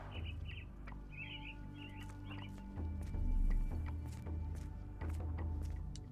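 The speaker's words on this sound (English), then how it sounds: "Minor birds, if I'm not mistaken. Beautiful creatures. Sad that they're caged here." Caged mynah birds in Sherlock Holmes: The Awakened give several short, bright chirps in quick bursts near the start, moderately loud over a low, droning game ambience with faint clicks and hums.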